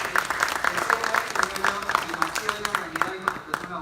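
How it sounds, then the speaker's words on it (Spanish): A seminar audience at a labour-law talk gives steady applause to welcome the speaker. Many claps blend into a dense patter at moderate loudness, with faint voices mixed in. "a nuestra ponente, Caterine Ruiz Ordóñez, a quien la recibimos con un fuerte aplauso"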